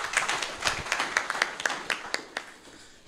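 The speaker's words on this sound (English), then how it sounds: "Let's clap hands for him." An audience clapping hands at a panel discussion on a constitutional amendment bill, a brief scattered burst of claps from a modest crowd, fading over about three seconds.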